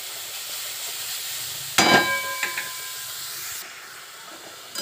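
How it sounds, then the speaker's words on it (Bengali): Grated carrots fry in ghee in a wok with a steady soft hiss, broken midway by a sharp metallic clang and a smaller knock, then the sizzle quietens near the end. "এবারে গ্রেড করা গাজরগুলো আমি ঘিয়ের মধ্যে দিয়ে দিলাম"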